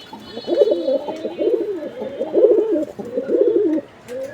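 Fancy pigeons coo close and loud, a steady run of throaty rolling calls with short gaps, heard at a bird market.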